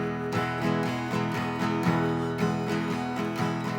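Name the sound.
guitar strumming 1-6 pattern fast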